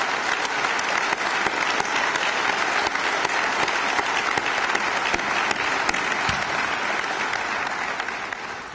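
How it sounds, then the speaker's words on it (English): A ceremonial audience at a 2014 undergraduate award presentation gives full, continuous applause, a loud, even roar of many hands that holds steady and fades slightly at the close. "Would he stand and let us give you an applause?"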